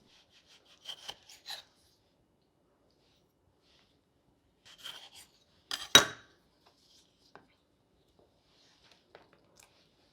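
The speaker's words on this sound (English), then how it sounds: "I will simply slice my tomatoes in half and put them on the tray" Cherry tomatoes are sliced in half with a knife on a board, giving a few quiet, sparse cutting taps and rasps with long silent gaps between.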